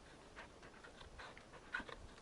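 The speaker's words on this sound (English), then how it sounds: "Look, the pupper." Dog panting in Final Fantasy XVI, a soft, quick run of breathy huffs at moderate distance, fairly quiet with a brief louder puff near the end, and no talking over it.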